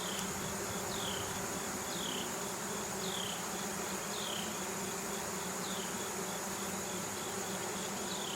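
Honey bees buzz steadily on a hive frame, a dense, continuous drone close by and evenly loud throughout, with no talking.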